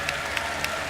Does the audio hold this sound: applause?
yes